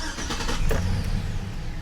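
A Chevrolet Silverado pickup engine cranks and catches close by, a brief starter burst settling into a steady rough idle with no talking.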